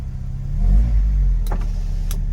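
A Vauxhall Cavalier SRi engine idles with a deep, rumbling exhaust note, louder than standard, steady and close, with a couple of faint clicks near the end.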